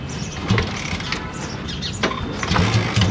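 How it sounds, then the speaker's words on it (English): A Royal Enfield motorcycle with a cold engine is started. It gives uneven mechanical clatter and a few thumping bursts as it catches, close by. "now we are starting the bike"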